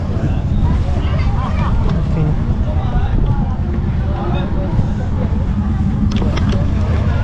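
Steady low ferry boat engine rumble with wind in Assam, a crowd of people talking over it continuously, close and loud.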